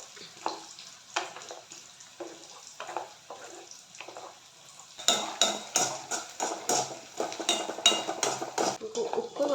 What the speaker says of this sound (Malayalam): തക്കാളി പേസ്റ്റ് ഒഴിച്ചു കൊടുത്തു രണ്ട് വലിയ തക്കാളി എടുത്തിട്ടുണ്ട് കേട്ടോ വഴറ്റി കൊടുക്കാം